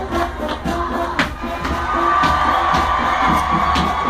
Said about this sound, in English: Big cheer comes up from the Trinity Christian side